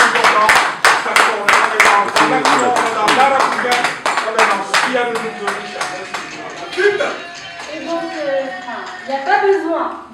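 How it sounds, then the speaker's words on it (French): An audience at a Paris press conference about Werrason claps in rhythmic unison, a steady close beat that fades after about five seconds while voices talk loudly over it. "on va applaudir s'il vous plaît parce que c'est important"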